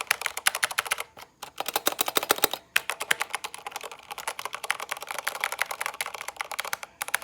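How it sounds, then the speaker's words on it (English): Rapid, fairly loud keystrokes on a Corsair K70 Rapidfire mechanical keyboard with linear Cherry MX Speed Silver switches, typed in quick bursts with a couple of brief pauses, close and alone. "this is what the switches sound like."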